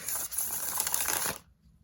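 A deck of tarot cards riffles in a quick, crisp shuffle close by, a dense papery flutter lasting about a second before stopping abruptly into near silence.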